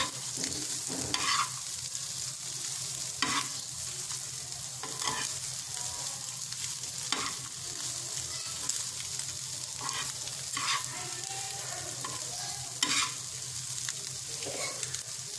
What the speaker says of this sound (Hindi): इसमें हम ऐड करेंगे कटी हुई ग्रीन चिली और अच्छे तरीके से इसे थोड़ा सा घुमाएंगे।